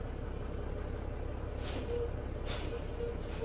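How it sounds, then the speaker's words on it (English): Air brakes on a truck in American Truck Simulator, three sharp hissing bursts of released air spaced a second apart over a steady low idling engine drone. "So if I step on the brakes, you can hear it."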